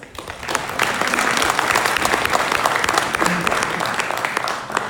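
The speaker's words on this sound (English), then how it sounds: "Let's first give them a round of applause." A conference audience breaks into a round of applause, dense steady clapping that swells quickly and holds for several seconds before easing off.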